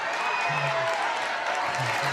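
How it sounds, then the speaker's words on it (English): Audience applause at a community State of the District event hosted by a congressman, a steady broadband wash of clapping lasting about two seconds, with faint low voices murmuring beneath it. "Give him a round of applause."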